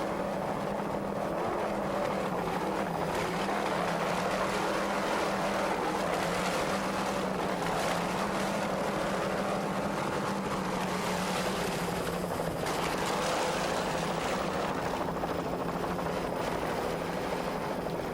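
Offshore racing powerboat engines at a 1993 US offshore championship race, including the C1 class boat Rolling Thunder, give a loud, steady, unbroken roar that holds throughout with no talking.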